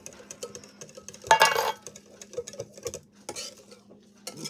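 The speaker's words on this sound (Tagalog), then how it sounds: "Mix lang natin to hanggang sa mag-well dissolve po ang atong mga ingredients." Ingredients being stirred together in a bowl until they dissolve, giving light patter and scraping clinks of a utensil against the bowl, with one louder burst of rattling stirring partway through.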